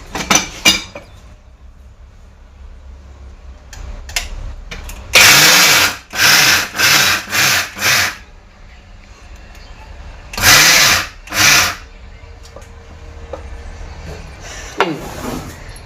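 An electric mixer grinder pulses roasted peanuts with garlic, cumin, chilli powder and salt into a coarse powder. There are about six loud grinding bursts of roughly a second each with short gaps between them, then quieter handling noises.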